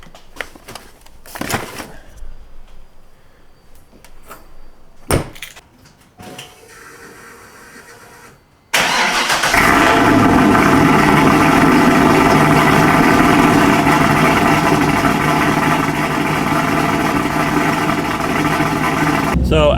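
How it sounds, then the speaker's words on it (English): Chevrolet Corvette engine cold start: scattered clunks and rustling handling noises, then the engine catches abruptly into a loud, steady, close idle that runs on without stopping. "we're going to start things off with a cold start"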